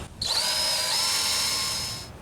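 A lubricated drill bit grinds into a broken, rusted bolt, giving a steady, high, close-up whine that holds for about two seconds before tapering off, with no talking.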